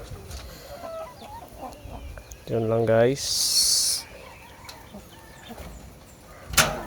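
A mother hen with her chicks at a Philippine home clucks in a few short bursts, one clear stacked call standing out, while someone talks quietly and a sharp bang closes it.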